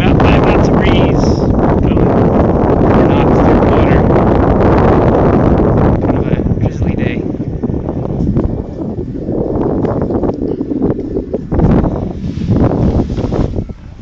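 Wind buffets the microphone while a sailboat moves along at about five knots on a homemade autopilot, a loud, steady rushing roar that eases and swells over the stretch.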